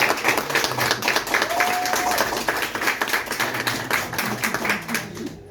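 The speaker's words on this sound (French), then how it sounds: "je vous demande de l'applaudir" Audience applause at an honoring ceremony for women, sustained crowd clapping with a dense even patter from start to finish, fairly close, with a brief tone and murmur beneath.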